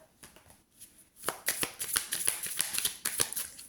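Tarot cards shuffled close up: a quiet start with a few soft clicks, then a dense run of flicking, riffling card slaps that continues steadily to the end.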